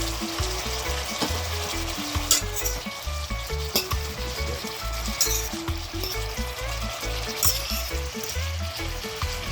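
Sliced orange, yellow, green and red sweet peppers sizzle steadily in a hot frying pan, loud and close, with occasional stirring scrapes and no talk, while cooking Jamaican escovitch fish.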